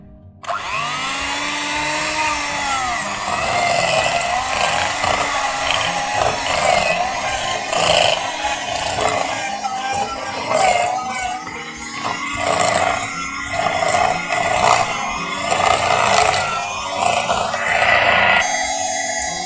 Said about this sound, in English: So I'll be using electric handheld mixer to do the mixing.